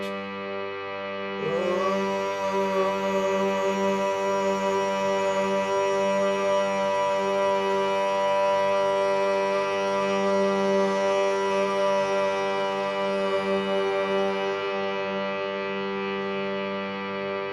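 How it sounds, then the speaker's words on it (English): A sustained tone held on a single pitch during a breathing exercise, rich in steady harmonics and layered with a faint shimmer, starting after a short pause and continuing evenly to the end. "Now we're going to exhale humming, just humming on this note."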